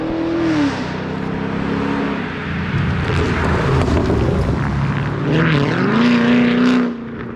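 Vehicles, one a Camaro, tear past on a mountain road in a high-speed flyby, engines rising and falling in pitch as they rev hard, loud and close, then the sound trails off at the end.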